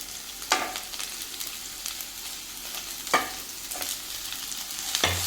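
Thinly sliced onions sautéing in a pan for garlic chicken, a soft steady sizzle broken by a few sharp scraping stirs of a spoon against the pan, close and fairly quiet with no voices.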